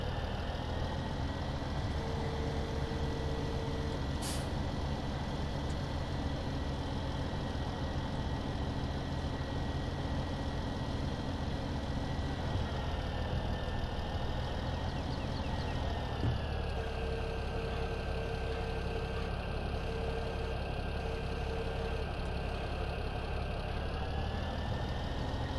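A tractor engine in the video game Farming Simulator 17 idles in a steady, continuous low drone, with its pitch shifting slightly partway through, running alone without talk.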